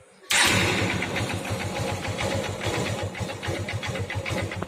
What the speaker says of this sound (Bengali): তো চলো ইঞ্জিনটা স্টার্ট করা যাক।